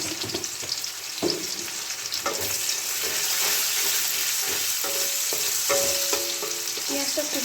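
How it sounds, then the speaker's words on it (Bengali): Chopped onion fries in a pan for masoor dal with bottle gourd, a steady close sizzle with repeated scraping and clinking of a spatula as it is stirred. "পেঁয়াজটা খুব বেশি লাল করে ভাজবো না, 1 থেকে 2 মিনিট মতো ভাজবো।"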